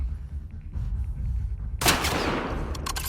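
Gunfire in The Last of Us Part II during a fight with a WLF search party: a sudden loud burst of shots that starts partway through and rings out over a low, rumbling game background.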